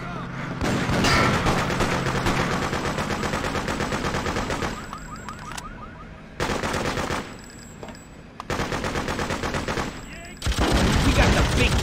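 Heavy gunfire from big guns in the Freedom Fighters video game, loud dense automatic bursts that roll on for seconds at a time, broken by a few short lulls.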